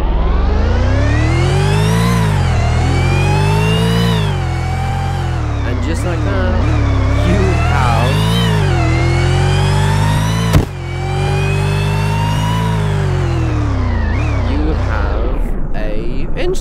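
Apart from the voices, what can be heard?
V8 car engine revving in video game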